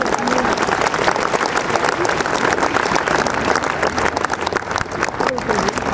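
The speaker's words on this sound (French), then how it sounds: "Applaudissez le curé" A church congregation at an outdoor blessing in Cap d'Agde applauds the priest, dense crowd clapping throughout with voices and cheers mixed in.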